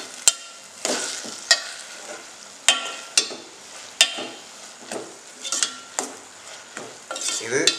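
Manathakkali leaves are sautéed and stirred in a pan for soup, with a soft sizzle under repeated sharp scrapes and taps of a spatula against the pan, close and alone.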